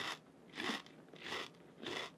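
Triscuit crackers topped with garden vegetable cream cheese crunch in three distinct bites, each a crisp close burst separated by brief pauses.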